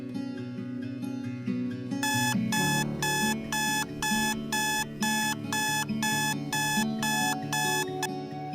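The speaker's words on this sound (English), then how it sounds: "she turns off her alarm" An alarm clock rings in rapid, evenly spaced electronic beeps that start partway through and repeat steadily and loudly over a low musical background, with no talking.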